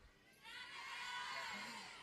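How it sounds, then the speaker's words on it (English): Students at a graduation ceremony cheer for Indranagar, a burst of crowd shouting and whooping that swells in after a quiet moment and holds for over a second. "A cheer for Indranagar?"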